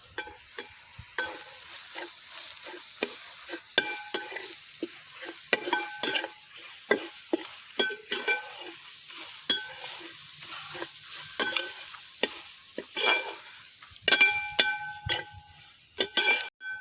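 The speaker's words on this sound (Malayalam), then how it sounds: "ചിക്കൻ മസാല, കുരുമുളക്, ലേശം മഞ്ഞൾപ്പൊടി, അതുപോലെ തന്നെ മുളക് പൊടി അതിട്ട് നമുക്കൊന്ന് മൂപ്പിച്ചെടുക്കാം" Chicken masala, pepper, turmeric and chili powder roasting in a pan, with repeated scraping stir strokes and clinks of a spoon against the metal over a soft sizzle, close and steady, no voices.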